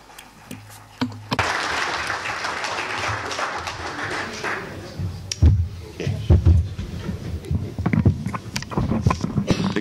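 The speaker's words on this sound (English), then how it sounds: "So give the interpreters and Lars and Janne a big applause." Conference audience applauding at an air-pollution-in-airports event, a short burst at first and then steady, dense clapping that fills the room with some louder bumps and a faint voice underneath.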